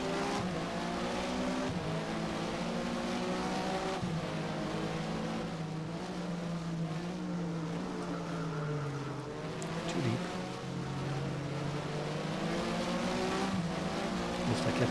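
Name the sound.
Porsche race car engine in Race07 video game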